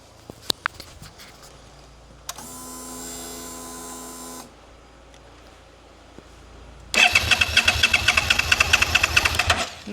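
A key-turned start attempt on a cheap, broken motorbike: a steady electric buzzing whine for about two seconds, a pause, then a loud, rough, rapid cranking rattle close by with no talking.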